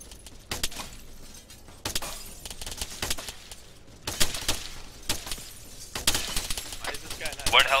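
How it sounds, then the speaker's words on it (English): Gunfire crackles through a video game firefight in an urban compound: sharp shots and rapid bursts arrive in irregular clusters, some close and loud, with voices faintly underneath at times. "Two of you, cover fire"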